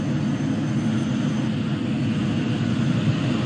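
Kawasaki C-2 military transport aircraft with General Electric CF6 turbofan engines flying at an airshow display in Dubai, a steady, loud, broad engine roar that holds evenly throughout with no voices.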